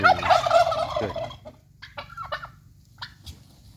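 An American Bronze turkey gobbles loudly and close by in a rapid rattling burst, then falls quiet with only faint, scattered calls afterward.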